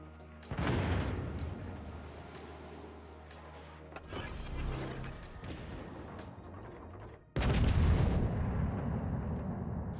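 Heavy naval guns fire in World of Warships as a Tier IX Russian cruiser Kronshtadt battles, with deep booming salvos that each swell into a long rumble, the last the loudest and closest.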